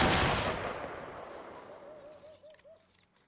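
Musket volley fired by massed troops in a Mount and Blade Warband English Civil War battle, a loud burst of overlapping shots that decays into rolling echoes and scattered distant pops.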